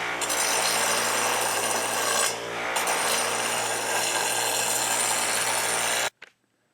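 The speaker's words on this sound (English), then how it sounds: "The small angle grinder is making this cutout much faster than grinding." A small angle grinder cuts steel stock while making a carpet removal tool, giving a steady, loud, high whine with a brief dip partway through before it stops abruptly and spins down.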